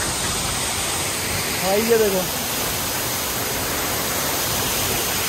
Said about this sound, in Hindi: तो भाई झरना चेक करो अब आप